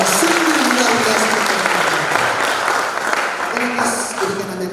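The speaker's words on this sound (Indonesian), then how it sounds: "kita berikan tepuk tangan bagi Tuhan kita yang sungguh luar biasa" A church congregation claps loudly and steadily through a Christmas sermon, a dense, sustained wash of applause with a voice speaking faintly underneath.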